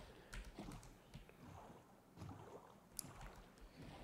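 Gentle water lapping and sloshing against a hull with soft wind, a boat in the video game Minecraft gliding steadily across open water, quiet and continuous.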